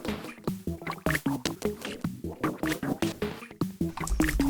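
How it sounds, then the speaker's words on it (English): A Serum synth preset run through Cold Fire distortion, Shaperbox and Digitalis plays a choppy, repeating melodic figure of short, punchy, saturated notes with pitch-stepped stutters, steady and up close, with no speech. "but then I added the same effects, distortion cold fire, shaper box, digitalis, sounds like this."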